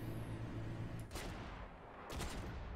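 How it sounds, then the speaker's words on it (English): Bursts of gunfire in a StarCraft II co-op match, two short loud volleys about a second apart over steady game background noise. "Looks like Vavin's gonna strike first, taking out the railgun turret with his cloak Nova."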